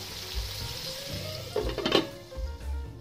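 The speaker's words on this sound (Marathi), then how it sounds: "मीडियम फ्लेमवरती हे तोंडली फ्राय करून घेणार आहोत" Ivy gourd (tondli) fries in a pan over medium flame, a continuous close sizzle with a brief louder burst of crackling and stirring in the middle.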